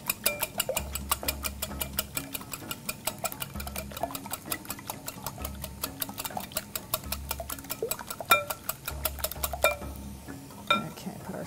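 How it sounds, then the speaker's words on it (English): A whisk clatters quickly and steadily against a bowl of eggs seasoned with salt, pepper and cayenne, with close rhythmic clinking over low kitchen hum. "Let me whisk this up a little bit."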